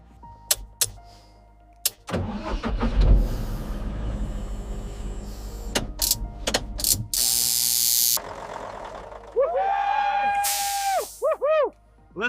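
Diesel engine of a giant Komatsu PC2000 excavator, salvaged from the ocean floor and restored, starts up and runs as a deep rumble among metallic clanks and ratcheting. High mechanical squeals and whines follow near the end.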